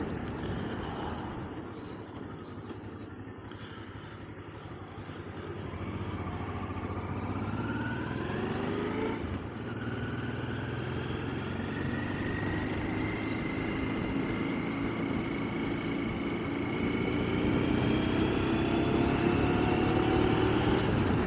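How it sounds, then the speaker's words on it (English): Steady engine drone and road rush from a motorcycle on a ride out along country roads toward Llanymynech, loud and continuous with rising and falling engine tones as the rider shifts speed. "see if I can get rid of the engine noise a bit"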